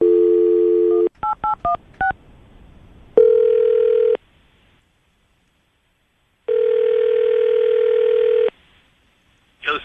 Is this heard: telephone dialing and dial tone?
yes